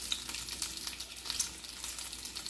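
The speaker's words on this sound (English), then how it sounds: "I'm just frying it up, lightly frying it up" Crackling, popping sizzle of meat frying lightly in a pan for Hoppin' John, a dense steady hiss with small spits and pops throughout, close and fairly quiet.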